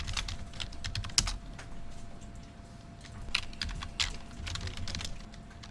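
Steady typing on a computer keyboard, with quick irregular key clicks and a few sharper taps running throughout at moderate, close range with no talking.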